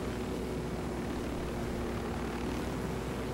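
A propeller aircraft in the video game Ghost Recon Wildlands comes in to land, its engines giving a loud, steady roar with a broad rushing noise that fills the whole moment.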